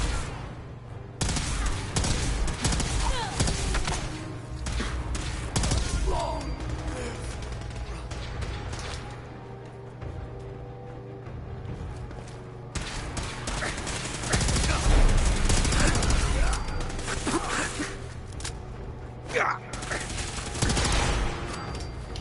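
Gunfire against mutants in the video game Fallout 4: repeated bursts and scattered shots across a noisy battle mix with a steady low drone, some close and loud, others more distant.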